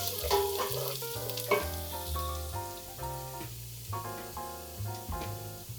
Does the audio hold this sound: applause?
no